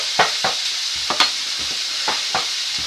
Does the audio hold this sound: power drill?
no